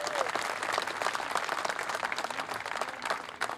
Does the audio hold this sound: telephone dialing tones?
no